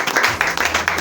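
A church congregation claps together for the Holy Spirit in quick, steady, rhythmic bursts, filling the room with dense applause.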